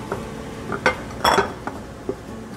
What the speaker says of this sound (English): Then I'm going to add all of this into my mixing bowl.